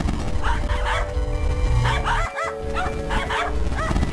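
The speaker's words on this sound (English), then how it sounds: "So let's look at these puppies. We have a whole new set of puppies." Distorted, glitchy dog barks and yips from a corrupted video game, repeating in a steady run of bursts over a loud, buzzing electronic backdrop, with a brief dropout midway.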